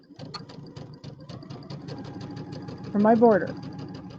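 A domestic sewing machine runs a quarter inch seam while piecing a quilt, a fast, even motor-driven stitching rattle close by, with someone talking over it.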